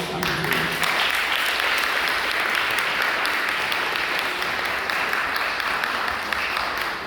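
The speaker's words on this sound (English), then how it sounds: "Give another round of applause." Steady crowd applause at a community council meeting in a Brooklyn police precinct after a speaker on mental health finishes, a continuous wash of many hands clapping throughout, moderately loud.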